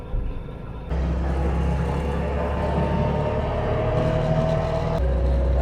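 A Trabant car driving gently uphill on very light throttle, its small engine humming steadily and close from inside the cabin, stepping up in loudness after the first second and holding an even drone.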